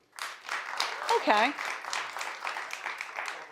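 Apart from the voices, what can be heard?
studio audience clapping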